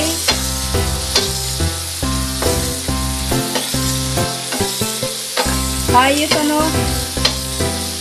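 Pork binagoongan with shrimp paste and tomatoes being stirred in a hot pan: loud continuous frying sizzle with repeated clattering scrapes of a spatula, close up, with a brief spoken remark.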